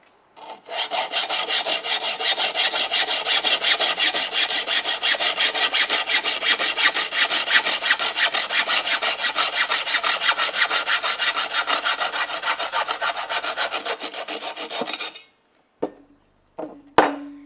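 A braided line clamped in a vise is cut with long, steady back-and-forth rasping strokes that run continuously for about fifteen seconds, close and loud, then stop with a few small clicks.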